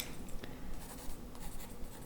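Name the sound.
writing notes on paper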